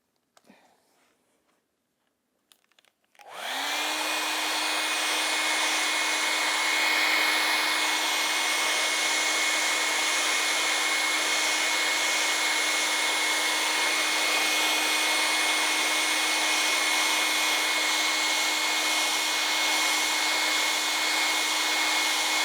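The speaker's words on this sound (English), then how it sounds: "I think I want to just get in there and blow dry." Hair dryer blow-drying wet paint on a painting, switching on abruptly after a few quiet seconds and then roaring loudly and steadily with a constant whine for the rest of the time.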